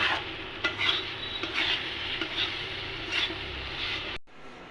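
A thick milk and coconut mixture for coconut sweets is stirred in a pan, with repeated scraping strokes and a soft bubbling sizzle, fairly quiet and close, before a sudden clunk ends it.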